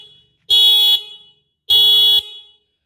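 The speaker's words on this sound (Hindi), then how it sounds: "हॉर्न भी काफ़ी लाउड है" Two loud, steady electric horn blasts, each about half a second to three-quarters of a second long, sounded on a 350-watt motor-driven heavy loader handicap tricycle, with a short gap between them and no talking.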